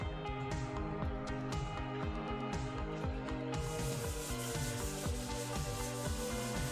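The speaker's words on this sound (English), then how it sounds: "that table needs a little bit more of a scrub" Someone scrubs a table with quick, rhythmic back-and-forth strokes, a close, steady rubbing sound repeating evenly for several seconds with no talk.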